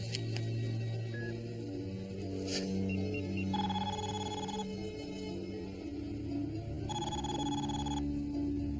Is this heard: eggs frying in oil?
no